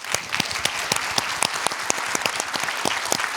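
A standing audience at an Arctic youth event applauds, a dense burst of sharp individual claps, close and continuous, with no talk over it.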